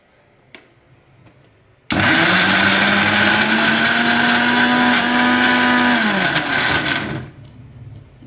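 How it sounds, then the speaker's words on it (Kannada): A mixer grinder whirs up to a loud, steady, high-pitched whine as it grinds ingredients, running continuously for several seconds before spinning down, close and alone. "ಮಿಕ್ಸಿಗೆ ರುಬ್ಕೊಂಡ್ಬಂದ್ಬಿಡೋಣ."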